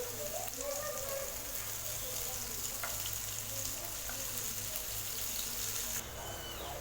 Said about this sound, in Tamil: இன்னொரு பக்கமும் ஃப்ரை ஆகிடுச்சு.